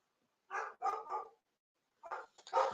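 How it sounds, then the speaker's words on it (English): A dog barks nearby in short clusters, one bark then a double, then a pause before another few sharp barks, with nothing else heard around them. "I do apologise for the dogs barking"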